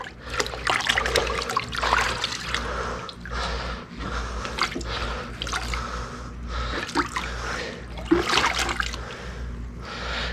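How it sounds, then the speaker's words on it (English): Animal hide being rinsed by hand in water during tanning, with repeated sloshing, splashing and dripping bursts in an uneven rhythm, close and moderately loud. "we're just kind of rinsing them out"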